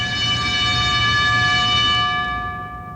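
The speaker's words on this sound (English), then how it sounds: "And here's a fire gong." A bright metallic fire gong tone with many ringing overtones, sustained and then fading away over a few seconds, played as a theatre pipe organ effect.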